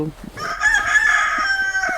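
Americana hen in a backyard homestead flock giving a drawn-out, loud squawking cackle, close by, after a few short soft clucks, with faint voices nearby.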